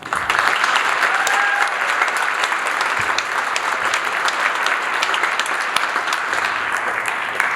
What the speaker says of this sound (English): give a second round of applause to the orchestras that you have heard so far